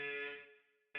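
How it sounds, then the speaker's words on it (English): A loud electronic alarm tone sounds in a video game and decays over about half a second, then a sharp new burst cuts in at the very end. "that's the alarm"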